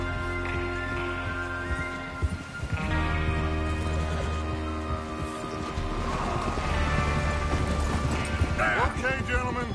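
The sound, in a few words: horses galloping, from a video game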